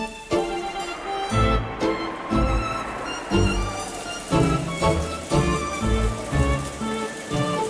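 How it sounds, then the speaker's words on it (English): Rain falls steadily in a continuous hiss, with heavier thumping bursts recurring throughout, loud and close, with no talking. "Oh man, it's raining again!"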